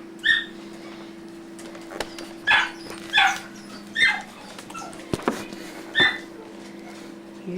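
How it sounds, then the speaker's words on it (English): A dog barks and whimpers in a string of separate, fairly close yelps and whines, with pauses between them and a steady low hum underneath, and no talking. "We got a crazy dog here."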